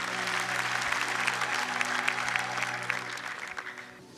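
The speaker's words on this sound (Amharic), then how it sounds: "አጨብጭቡ ለጌታ።" A church congregation at an Ethiopian worship service claps for the Lord: dense, sustained applause filling the room, with a low steady hum beneath it, tapering off near the end.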